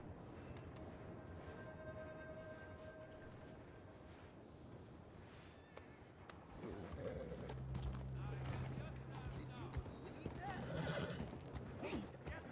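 A horse in the RedM (Red Dead Redemption 2) role-play game whinnies and clip-clops at a low level under near-constant talking, with game ambience behind it.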